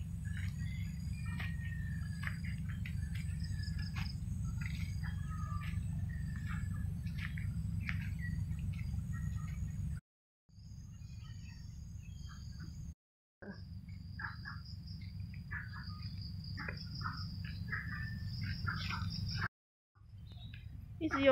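Frogs call from a pond at Marsiling Park in Singapore with repeated chirping croaks over a constant low outdoor hum. The calls continue through the clip with a few brief gaps.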